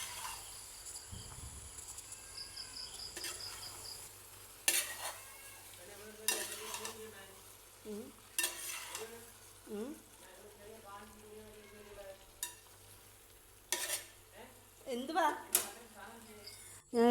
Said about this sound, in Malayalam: എന്നിട്ട് ഒന്നും കൂടെ ഒന്ന് ഇളക്കി യോജിപ്പിക്കുന്നു